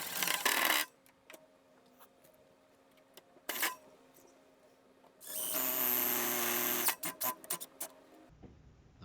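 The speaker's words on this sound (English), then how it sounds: "we'll put our final screws in this one" A drill driving the final screws into a wormery storage box, short motor whirs and one longer sustained run with clicks and knocks in between, close and moderately loud.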